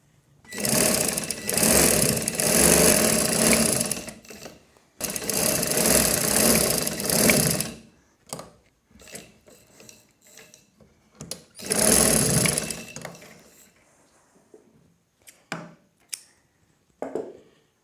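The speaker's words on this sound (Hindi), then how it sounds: "कमर की सिलाई लगाएंगे" A sewing machine stitches the waist seam of a baby girl's frock in several loud, close bursts of rapid mechanical whirring, each a few seconds long, followed by brief clicks and handling noises in the pauses.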